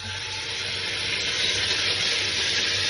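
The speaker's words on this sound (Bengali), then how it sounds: "এই যে আদা বাটাটা দিয়ে দিলাম, পুরো ছিটছে" Ginger paste fries and spatters in a pan, making a dense, continuous crackling sizzle that stays close and fairly loud without pause.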